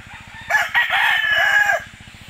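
A single rooster crows loudly and close by, one full cock-a-doodle-doo over a steady low mechanical hum.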